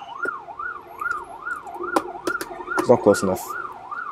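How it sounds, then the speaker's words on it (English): An ambulance siren wails in a steady rising-and-falling cycle in the War Thunder battle game, moderately distant, while sharp gunfire and explosions break in and a player talks briefly over it. "It's the third time I heard this ambulance."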